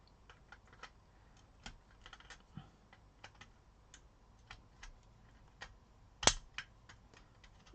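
Plastic bits are clipped off OO gauge model railway wheels with a cutter, producing a string of small, sharp ticks and snaps at close range and one louder crack near the end, with no talking.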